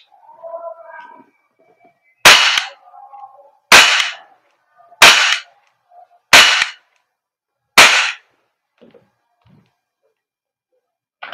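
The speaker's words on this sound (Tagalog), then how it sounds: "Parang tunay na baril yung pinuputok ko eh." Five sharp, loud shots from an Umarex Glock 17 Gen 5 gas blowback airsoft pistol, made by GHK Taiwan, fired at a target about 2.5 meters away, evenly spaced and close, with faint handling noises between them.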